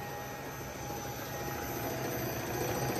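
Old electric motor, freshly dismantled, cleaned and reassembled, running at lower RPM with a steady, faint hum and whine that builds slightly in loudness toward the end.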